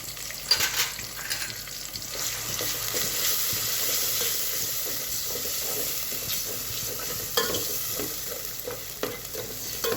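Ground masala paste with turmeric fries in a pan, making a steady, hissing sizzle close by, with a few stirring scrapes along the way and no voices.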